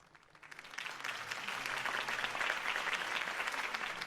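Crowd applause rises quickly after a campaign speech and then holds as a steady, dense wash of clapping, moderately distant and without talk.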